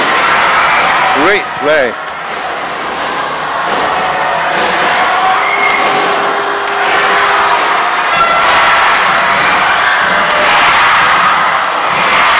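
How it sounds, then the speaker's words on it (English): A crowd cheers and roars at an Axiata Cup 2012 badminton group match between Kuncoro and Zulkarnain, with a few sharp thuds at the start. A commentator talks over the sustained crowd noise. "Listen to the crowd into this."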